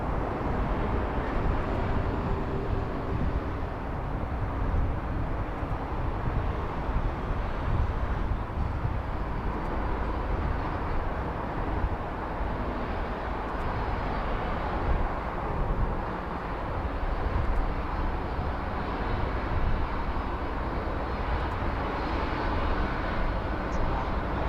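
A Qantas Boeing 737 lands at Sydney Airport, a loud continuous jet engine roar with steady broadband rumble and no talk.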